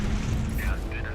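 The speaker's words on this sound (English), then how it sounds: "So, just put out a heavy missile, and that should take care of everything" Heavy missile explosion in the space combat game Fractured Space, a deep rumbling boom that rolls on without a clear attack, with a voice talking over it.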